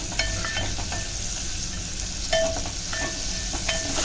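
Onion tempering in hot oil for a Malvani clam curry, a steady close sizzle with brief stirring scrapes and clinks of a spoon against the pot, no voices.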